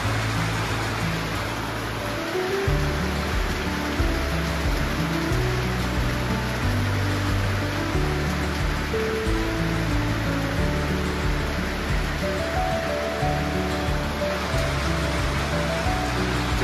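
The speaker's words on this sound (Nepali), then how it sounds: "यहाँ सिटोङमा घनघोर पानी परिरहेको यहाँ" Heavy rain pours down in a dense, steady roar that stays loud and unbroken throughout at a hill retreat in Sitong, with no voices heard.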